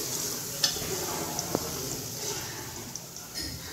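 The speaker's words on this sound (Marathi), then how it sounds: "तर मनुके पण छान तळून घ्यायचे आपल्याला" Raisins fry in a pan with a soft, steady sizzle, close up, punctuated by a few light clinks of a spoon stirring against the metal.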